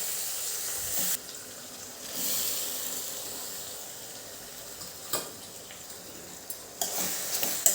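Peeled, chopped ridge gourd frying in a pan with red chilli powder, a steady soft sizzle with a few sharper crackles and clatters near the end, no talking.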